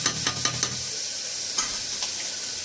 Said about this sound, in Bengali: খেসারির ডালটা দিয়ে একটু ভালো করে একটু কষিয়ে নেবো, ডালটাকে ভাজা ভাজা করে নেবো মশলার সাথে দিয়ে।